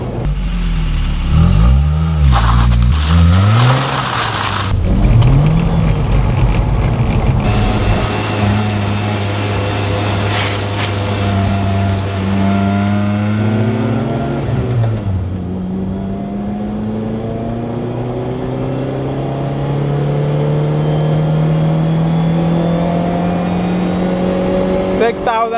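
A Lotus Elise S2 is driven hard, its engine revving up and down repeatedly through the gears with loud rising and falling pitch, settling into a long steady climb near the end.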